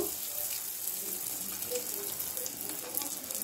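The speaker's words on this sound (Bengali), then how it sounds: "তেল গরম হয়ে গেছে, এবার আমি চিকেন পিসেসগুলো দিয়ে দেব।" Chicken pieces with a thin coating drop into hot deep oil for chili chicken, giving a steady, fairly quiet sizzle and bubbling crackle close by, with no talk.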